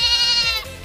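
Young goats on a farm letting out a single loud, drawn-out bleat close by, with no talking.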